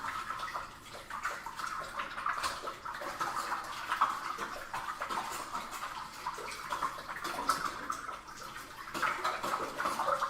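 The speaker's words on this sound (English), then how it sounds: "Stir it around." Liquid stirred inside a homebrew fermenter during secondary fermentation of a Lemondrop Saison, a steady sloshing, swishing wash of water that runs continuously and fairly loud close to the microphone, with no talking.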